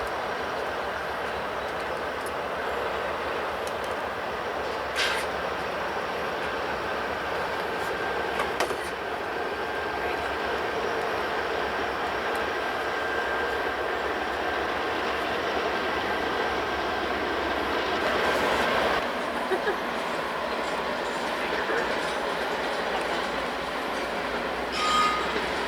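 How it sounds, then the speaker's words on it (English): An empty ethanol freight train rolls steadily past on the Harrisburg Terminal line, a continuous loud rumble of wagons and wheels with occasional faint squeals lasting the whole stretch. "This is yet another empty ethanol train"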